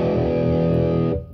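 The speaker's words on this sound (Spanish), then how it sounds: "que suena más la distorsión y como la madera de la guitarra." A distorted electric guitar run through a Line 6 HD500X rings out as one sustained, gritty chord for about a second, then cuts off abruptly.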